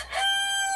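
A rooster crows close by, a single bright, harmonic call that swells quickly and holds steady for under a second, with no talk over it.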